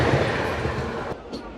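The Visakhapatnam-Machilipatnam Express, hauled by a WAP-4 electric locomotive, rushes past close by as a dense, roaring wash of rail noise that stays loud throughout and eases slightly near the end.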